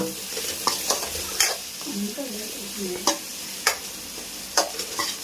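Tomatoes and liver cooking in a pan for a liver fry, with a soft steady sizzle under repeated scraping stirs and clinks from a spoon or spatula, close up and without talk.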